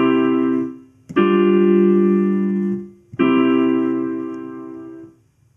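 Three sustained keyboard chords form a cadence, each held for over a second and separated by brief fades, played clearly and alone.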